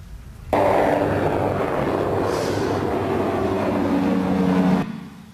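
A Reaper military drone, the successor to the Predator, drones steadily overhead in a manufacturer's promotional footage, a loud continuous broadband engine roar that starts abruptly and holds for several seconds before cutting off.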